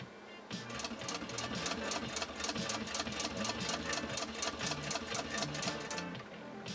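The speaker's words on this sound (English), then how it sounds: "if you knew how easy it was to turn this hand crank, it's absolutely ridiculous" A hand-cranked Singer 66-1 Red Eye sewing machine, about 107 years old, runs in a fast, even rhythmic clatter for roughly six seconds, close and steady, with no talking.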